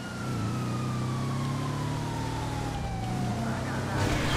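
Police siren in GTA 5 wails steadily with a slowly falling tone, heard over a continuous rumble of game traffic and engine noise.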